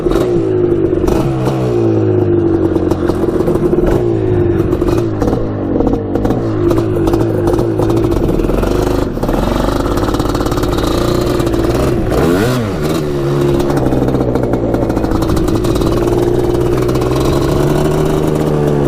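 Two 250cc two-stroke quads, a Kawasaki Tecate and a Suzuki Quadracer, race flat out with loud, close, continuous buzzing engine roar that rises and falls in pitch through the run.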